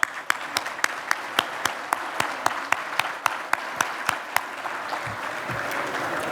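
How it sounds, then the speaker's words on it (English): Audience applause at a State of the City civic event in Portsmouth, a steady wash of many hands with a prominent rhythmic clap cutting through at regular intervals. "Let's give them another round of applause."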